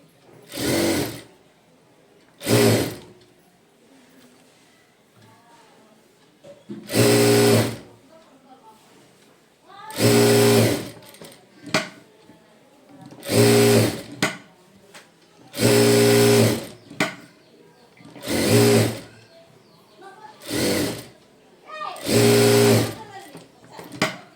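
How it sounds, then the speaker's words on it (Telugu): Sewing machine stitching invisible thread piping, running in about ten loud, close bursts of one to two seconds each, separated by short pauses filled with faint handling sounds. "అది నీట్గా చేయితో ఇలా అనుకొని స్టిచ్ వేసుకోవాలి"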